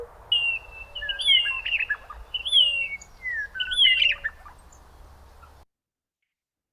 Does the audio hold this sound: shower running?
no